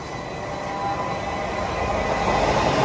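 A train rumbles past slowly and close by at Welwyn North, a steady heavy roll with faint metallic wheel squeal rising slightly toward the end.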